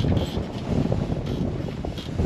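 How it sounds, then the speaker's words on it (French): Strong 20-knot crosswind on a sailboat at sea en route to Antigua roars steadily, a loud, constant gusting buffet with rushing noise across the whole clip and no talk. "Vent de travers à 20 nœuds, encore plus rare."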